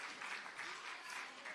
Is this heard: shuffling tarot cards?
no